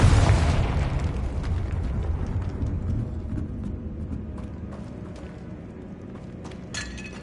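A Confringo blasting spell from a Harry Potter video game goes off with a loud opening boom, then a long rumbling, crackling decay that slowly fades, with a small sharp burst near the end.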